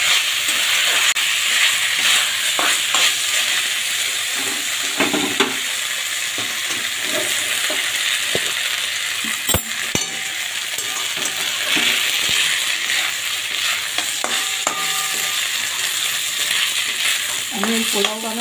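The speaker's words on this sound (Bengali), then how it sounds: "যতক্ষণ জলটা থাকবে চালটাতে ততক্ষণ এই ফোড়নের সাথে ভেজে নেব" Rice frying in a pot with tempering spices for ilish pulao, a Bengali hilsa fish dish: a steady, close sizzle with occasional stirring scrapes runs throughout, without talk.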